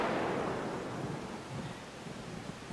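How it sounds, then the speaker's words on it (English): Thunder crack fading into a long low rumble, loud at the start and tapering off, with a hint of rain beneath. "Rain falling, thunder rolling,"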